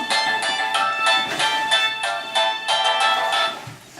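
A telephone ringtone plays a bright, repeating electronic melody in short rhythmic bursts, loud and close, with no voices over it.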